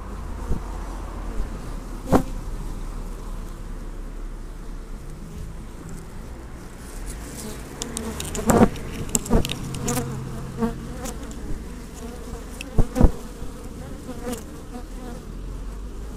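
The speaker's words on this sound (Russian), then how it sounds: "Немного я пораздражаю пчел." Bees buzz close around a camera on a hot day in a dense, continuous drone, with sharp taps and knocks as individual insects strike the lens housing.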